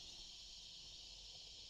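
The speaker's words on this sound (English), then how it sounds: "cicadas are loud" Cicadas drone in a steady, high, continuous buzz throughout, faint and distant against a quiet background with no talking.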